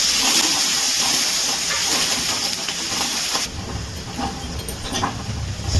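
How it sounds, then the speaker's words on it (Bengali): Medium-sized chopped onion frying in oil in a pan, a loud continuous close sizzle and hiss that shifts in tone partway through as it is stirred. "পেঁয়াজটা খুব ভালো করে তেলে ভেজে নিচ্ছি।"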